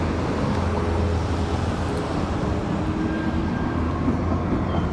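An MTR train in Hong Kong rumbles steadily throughout, a continuous loud low rail drone with no clear breaks, heard from on board or close by.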